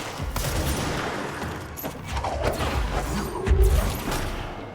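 Rapid bursts of gunfire in a video game, a steady dense clatter of shots that swells briefly near the end, with no talking over it.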